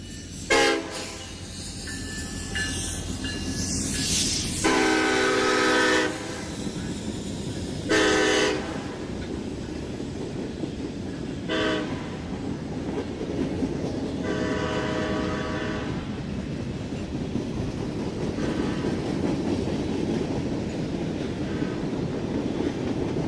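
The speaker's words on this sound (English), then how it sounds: "A new SD70M-2 is the lead unit, followed by SD60I still in Conrail paint 7 years after the Conrail split, and a SD40-2." A westbound Norfolk Southern freight on the New Castle District, led by a new SD70M-2 with an SD60I in Conrail paint and an SD40-2, sounds several loud horn blasts over a steady rolling rumble.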